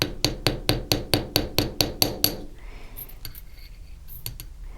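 A hammer strikes a steel letter stamp into a metal pendant frame ten times in a steady, even rhythm, each blow a sharp metallic ring, followed by quieter handling clinks and light scraping.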